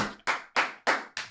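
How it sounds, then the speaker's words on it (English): Four sharp hand claps ring out in a steady rhythm, each loud, close and percussive with a quick decay, and no talking. "a mean clap, though"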